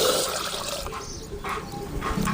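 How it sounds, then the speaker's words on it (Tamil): Two tumblers of water heating in a pot on a stove for fenugreek milk, a steady watery bubbling and churning hiss with brief sloshing swells, close and moderate in level. "தண்ணி நல்லா கொதிக்கிட்டு."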